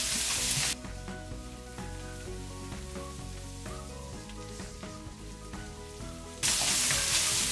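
Turmeric powder is stirred into a pan for Kerala-style chicken curry over a low flame, with a soft steady sizzle under occasional spoon scrapes, framed by brief louder bursts of hiss at the start and end.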